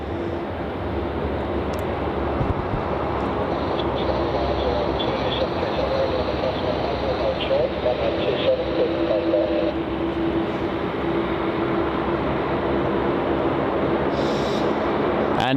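An Air New Zealand A320neo airliner arriving on runway 27 at Melbourne Airport, a steady broadband jet rumble running throughout at constant loudness, with a brief higher whine near the end.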